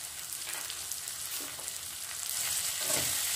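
Tomato, onion and grated ginger and garlic fry in a pan, giving a steady close sizzle with occasional stirring that grows slightly louder toward the end.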